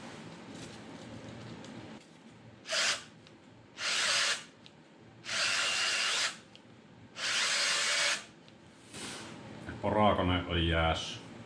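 Four loud bursts of a power drill whirring, each a second or two long with short pauses between, then a brief rattling buzz at the end over a low background.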